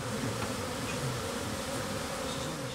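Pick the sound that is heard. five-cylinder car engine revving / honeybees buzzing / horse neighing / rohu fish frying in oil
honeybees buzzing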